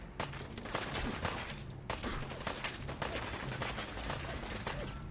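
Dense, sustained gunfire and fusillade from an enemy firefight in Fallout 4, with rapid overlapping shots and machine-gun bursts running continuously and loudly for the whole stretch.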